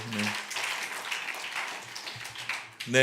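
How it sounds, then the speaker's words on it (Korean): A church congregation claps together during a Sunday worship service, a sustained wash of many hands that fades near the end before a voice starts speaking. "우리 시험 준비하는 학생들 힘내라고 한번 박수로 격려하면 좋겠습니다"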